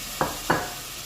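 Garlic and onion cooking in a pan, with two quick stirring scrapes standing out over a constant hiss of frying.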